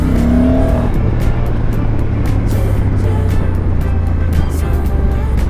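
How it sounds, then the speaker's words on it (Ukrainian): Loud, steady engine drone while riding a 2025 Honda NT1100 touring motorcycle, a constant low rumble with wind rush over it and no breaks. "Мотор має дуже приємний звук"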